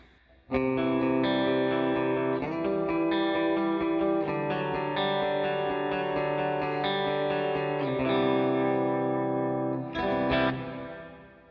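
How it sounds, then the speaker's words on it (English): Electric guitar played through a Line 6 HX Stomp with a stereo reverb placed in front of the amp models, sustained distorted chords ringing with chorus-like shimmer and a lingering reverb tail, several strummed changes, no talking. "All right, let's take that stereo reverb. We'll throw it in front of the amps"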